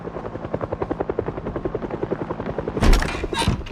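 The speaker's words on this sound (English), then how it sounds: "it was now day 9, and well, the helicopter showed up." A helicopter arrives in the video game Project Zomboid, its rotor thumping in a fast steady rhythm, loud and close, with a couple of heavy gunfire-like bursts near the end.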